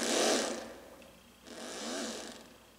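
Glass Harp preset on a Yamaha Reface DX FM synthesizer, two bright shimmering sustained notes with airy high overtones and gliding tones, each swelling and fading, played alone without voices.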